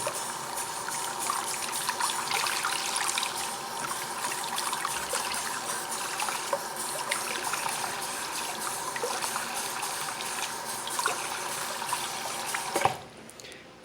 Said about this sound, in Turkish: Şimdi de fırçamızı yıkayalım.